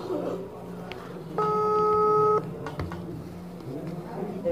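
A telephone keypad sends dialing tones. One steady, clear electronic tone lasts about a second, set against room noise and people talking nearby.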